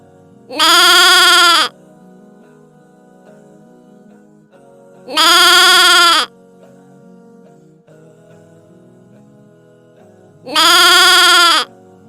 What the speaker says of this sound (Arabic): sheep bleats.